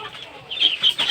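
Chickens cluck in short, sharp bursts nearby, several calls in quick succession.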